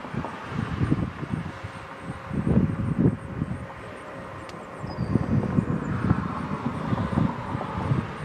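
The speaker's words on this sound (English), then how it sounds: "it's the old 717 getting ready to head off to Detroit" A Boeing 717 jet at Milwaukee's General Mitchell airport spools up for departure to Detroit, a distant rumbling engine roar that swells and fades in waves under outdoor wind noise.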